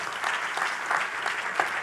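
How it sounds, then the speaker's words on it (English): A conference audience claps for panelists being welcomed onstage, producing steady, moderately loud applause that swells slightly in places and continues unbroken with no talk over it. "Applause, please."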